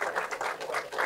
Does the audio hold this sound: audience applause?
yes